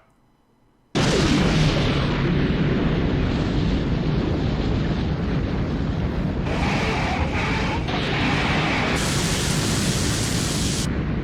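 N2 bomb detonation from the anime film The End of Evangelion: a sudden massive blast that becomes a loud, sustained roar of rumbling noise lasting about ten seconds, with no speech.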